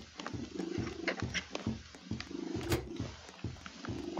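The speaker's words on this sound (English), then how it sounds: "my cat's purring again. Really loud." A pet cat purrs loudly and close in a rhythmic rumbling cycle, each breath in and out pulsing steadily, alone without talk.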